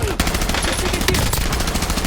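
Dense automatic gunfire in the video game Warzone rattles without pause, loud and close, as rapid overlapping shots form a continuous barrage with little gap between rounds.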